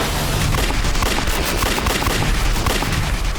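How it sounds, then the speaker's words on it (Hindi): Rapid gunfire crackles through a shootout in a Hindi TV crime drama, a dense loud volley of shots that continues without a break and drowns out everything else. "Open fire."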